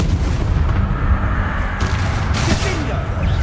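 Confringo and Bombarda spell blasts in the video game Hogwarts Legacy, with booming explosive bursts over a dense rumbling battle din, punctuated by a voice shouting spell names.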